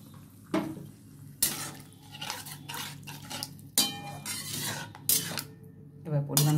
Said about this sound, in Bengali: ভালো করে এবার আমি সব ফেটিয়ে নেবো একসাথে